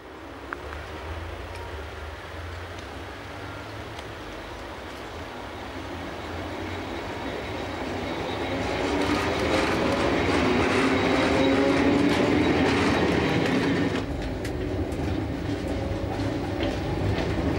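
A Swiss VHB train with an RE456 locomotive travels over former HWB rails toward Wolhusen. The steady rolling rumble and clatter of the wheels grows louder midway, then eases back to a continuous run, with no talking.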